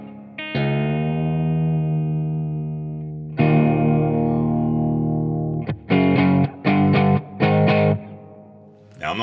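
A 1978 Greco EG500 electric guitar fitted with Fishman Fluence humbuckers, played clean in drop D with reverb: a long ringing chord that sustains and fades, a second strummed chord, then three short choppy chord stabs, loud and alone.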